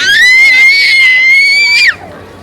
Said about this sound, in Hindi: चिल्लाई जा रही है, लोगों को परेशान कर दिया।